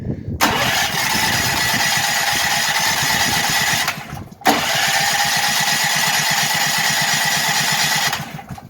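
A Duramax 8500 dual fuel portable generator starts twice: each pull bursts into a loud, steady mid-pitched engine drone that runs several seconds, drops out briefly, then restarts and runs again.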